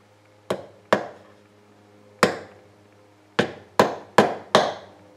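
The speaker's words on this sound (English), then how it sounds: "you hammer them down to the level and you got your little bollards for the ship there" Seven sharp hammer taps drive small wooden bollards into the wooden deck of an old model boat, each strike crisp and close with a short ringing decay, spaced unevenly over a faint steady hum.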